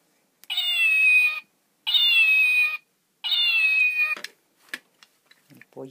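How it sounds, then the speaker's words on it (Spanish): A toy animal sound bag plays a recorded cat meow three times in a row, each meow about a second long and evenly spaced, followed by faint handling clicks and rustles. "El gato."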